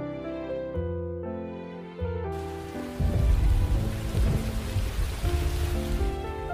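Rain and thunder in the Sakura School Simulator game: a soft musical tone gives way to a burst of steady hissing rainfall with a low rumbling thunder roll underneath.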